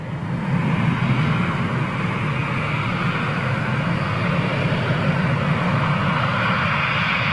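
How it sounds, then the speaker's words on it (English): An Etihad Boeing 787 airliner departs Manchester Airport, its jet engines giving a steady, broad roar with a low rumble that holds fairly loud and even throughout, with no voices. "Etihad 787 heading out for departure to Abu Dhabi for you, Jerry"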